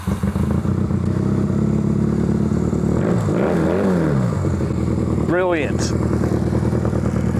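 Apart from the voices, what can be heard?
carburetted motorbike starting and running after months idle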